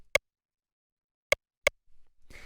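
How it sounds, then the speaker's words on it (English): A quiet rim shot drum sample clicks three times, sharp and dry with short gaps, over near silence before a faint noisy tail at the end. "a little quiet rim shot sound that plays in there"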